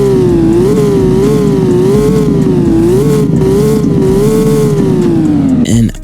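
Porsche 911 GT3 RS engine revving hard and continuously, a loud, close, rising and falling wail held for several seconds before easing off at the end.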